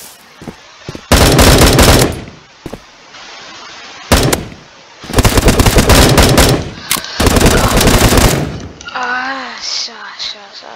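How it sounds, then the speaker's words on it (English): Gunfire in the Bullet Force video game: loud bursts of automatic fire in several clusters, with sharp single shots between them, followed by a trailing voice at the end. "This man's trying to shoot me."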